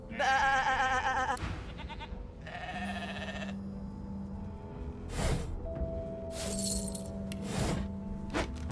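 A sheep in Divinity: Original Sin gives a loud, wavering bleat, followed by shorter bleats and clinks over a low, steady ambient hum.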